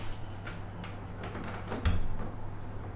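Bathroom door in a hotel quarantine room in Bangkok opening, a soft creak and brief latch clunk under a steady low room hum, fairly close.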